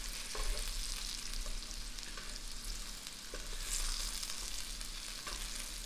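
Potatoes frying in oil in a pan give a steady, close sizzle and crackle that runs unbroken throughout, with small pops scattered through it and no talking.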